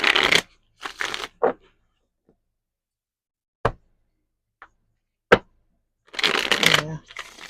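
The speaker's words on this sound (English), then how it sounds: "I saw that in the deck when I was just shuffling" Tarot card deck being shuffled in several short riffling bursts separated by pauses and a few sharp taps, close and fairly quiet, with no talking over it.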